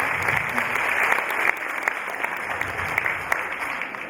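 Audience applause at an event with a panel of women being introduced, loud dense clapping held steadily throughout with a few sharper claps on top, no voices over it.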